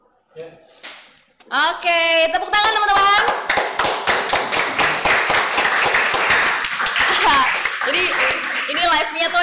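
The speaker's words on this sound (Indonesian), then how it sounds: "Oke, tepuk tangan teman-teman." A small group of people clap together in an office workspace, a dense patter of close hand claps lasting several seconds, with voices cheering and talking over it at the start and end.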